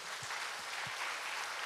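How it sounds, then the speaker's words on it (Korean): Applause from a church congregation at an autumn revival service, a broad steady wash of clapping that fills the short moment, with a few low thumps beneath it and no voices. "감사와 영광의 박수"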